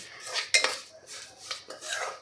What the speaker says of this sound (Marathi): आता ही सुद्धा यामध्येच आपल्याला भाजून घ्यायची आहे।